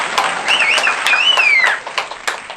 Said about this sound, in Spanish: Un aplauso duro, hombre.